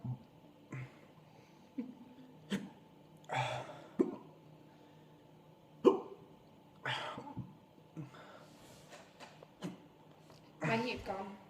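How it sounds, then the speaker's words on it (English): A person hiccups rapidly and repeatedly, sharp short bursts spaced about a second apart, interrupting their own attempts to speak. "It's hard to talk when you hiccup so fast."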